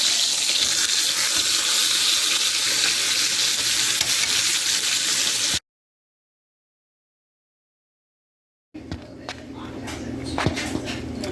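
A ribeye steak sizzling loudly in a pan, a dense continuous hiss close up that cuts out abruptly, then returns quieter with scattered crackles and clinks.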